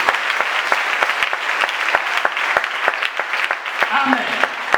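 A church congregation applauds the Lord together, a dense, steady wash of clapping with sharp individual claps standing out, and a voice briefly heard near the end.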